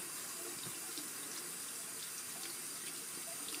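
A tap runs steadily into a sink while a makeup brush is wetted under it, a constant close hiss of flowing water with no voices.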